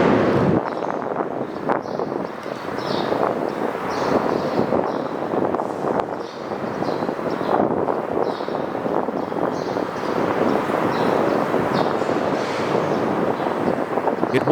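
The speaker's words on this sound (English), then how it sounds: "the wind grows fiercer" Strong wind buffets the microphone over open water during an unmanned surface vessel's first field test, a continuous loud roar with gusty surges and no voices.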